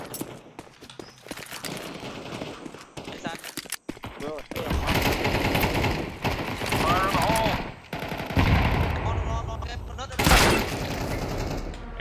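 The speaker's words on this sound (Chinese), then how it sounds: "龙，炸到队友啦" Gunfire and explosions in the video game CS2 come as rapid automatic bursts and heavy blasts, dense and loud, with game sound effects and voices talking over them.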